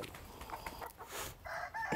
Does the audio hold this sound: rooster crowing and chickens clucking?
yes